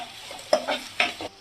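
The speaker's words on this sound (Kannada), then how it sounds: "ಇವಾಗ ಈ ರೀತಿ ಚೆನ್ನಾಗಿ ಫ್ರೈ ಮಾಡ್ಕೊಳ್ಳಿ." Onions fry in a pan with a soft, steady sizzle while a spoon stirs them in a few quick scraping strokes, close and clear with no talk.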